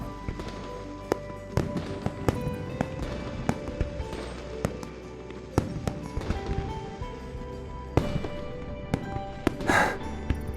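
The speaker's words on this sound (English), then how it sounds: "Do you want to set off fireworks in Hungling City?" Fireworks going off in Hungling City in the video game Love and Deepspace: scattered sharp pops and cracks over a dense background, with a bright crackling burst near the end.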